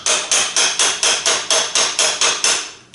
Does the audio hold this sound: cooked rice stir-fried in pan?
no